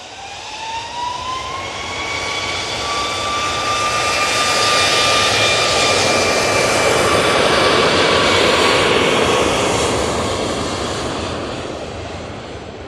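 A Ryanair Boeing 737 MAX 8 jet departs an airport, its engine roar swelling into a loud, broad rush with a rising whine that peaks mid-pass and then slowly fades away.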